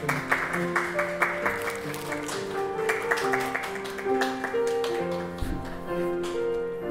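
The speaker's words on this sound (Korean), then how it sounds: "네, 박수하겠습니다" Applause at a training graduation ceremony spreads over the whole stretch, moderately loud, with background music and murmuring voices running beneath the clapping.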